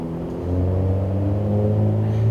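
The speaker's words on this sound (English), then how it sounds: "Go away, loud, noisy car." A loud engine rumbles close by, its low drone swelling as a car approaches and passes, with no other sounds over it.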